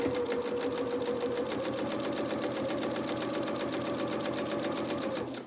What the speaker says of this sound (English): line this up with our sewing machine again, line it up with the mark on the presser foot that we're using, hold on to our threads, couple of stitches forward, couple of stitches back